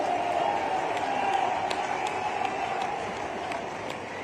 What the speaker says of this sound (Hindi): आप जोरदार ताली बजाओ तो आपकी बात पे विचार करता हूं।